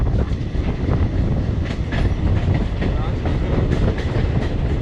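Karnataka Express passenger train running on a single-line ghat section, a steady loud rumble of wheels on rails with rhythmic clickety-clack and faint metallic squeals throughout, heard from on board.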